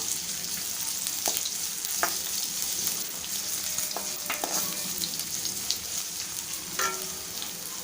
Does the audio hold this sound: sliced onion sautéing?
yes